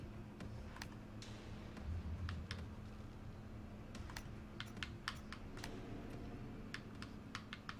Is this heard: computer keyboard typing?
yes